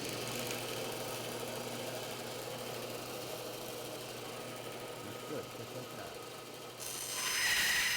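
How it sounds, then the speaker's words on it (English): A small bandsaw resawing a wooden board against a clamped fence, a loud continuous motor whine and blade hum running steadily for several seconds before a brief change in pitch near the end. "I'm going to resaw it on my little bandsaw right here"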